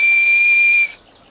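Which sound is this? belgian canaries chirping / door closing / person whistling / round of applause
person whistling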